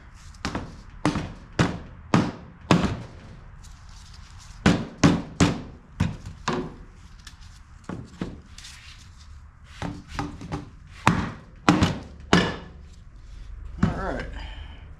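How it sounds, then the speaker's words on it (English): Repeated sharp metallic hammer taps on a Mazda RX-7 engine part during water pump replacement, roughly one or two per second, close and loud, continuing steadily through the clip. "See if I can just tap this with a hammer."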